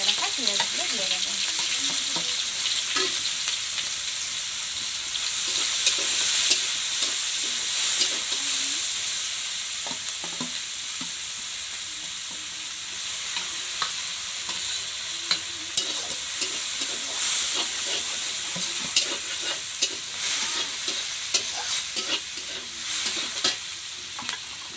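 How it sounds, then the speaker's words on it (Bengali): Chopped onions frying in hot oil with bay leaf and five-spice seeds for a Bengali village-style fish curry, giving a steady loud sizzle and hiss with occasional stirring scrapes throughout. "এখন আমি কেটে রাখা পেঁয়াজগুলো দিয়ে দেবো।"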